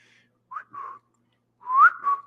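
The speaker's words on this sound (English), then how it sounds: "Wow, whistling is different." A person whistles a few short notes, a brief pair followed by a longer rising note that settles, clear and close with no other sound.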